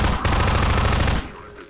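Sustained rapid automatic gunfire aimed at the player in the video game Half-Life 2, a dense loud burst lasting over a second before cutting off into quieter background.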